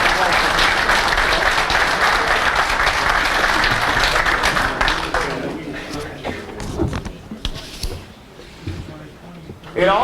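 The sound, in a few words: crowd applause at a speedway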